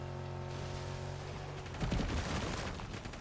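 Gunshots in Fortnite Zero Build, a short cluster of rapid shots breaking out near the end after a quiet stretch of game ambience, moderately distant and without talk.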